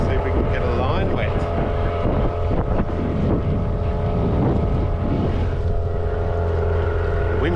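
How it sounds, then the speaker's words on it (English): A boat's outboard motor runs at steady revs on a harbour bay, a loud continuous droning hum with wind buffeting the microphone and a voice speaking over it at times. "I couldn't get the bloody outboard started. Anyway, she's going now."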